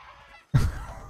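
A female chicken in the video game Atlas gives a single short, loud cluck that cuts in abruptly after a quiet moment and trails off quickly.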